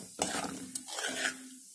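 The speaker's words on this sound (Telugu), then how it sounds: "ఈ మందార పొడిని ఈ నూనెలో వేసేసుకోవాలి. వేసుకొని ఈ విధంగా" A spoon scrapes and swirls hibiscus powder through coconut oil in a small pan, giving two or three short gritty stirring strokes with a faint sizzle underneath, close and quiet, with no voices.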